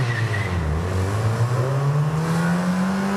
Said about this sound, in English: Yes, there we go, another Subaru.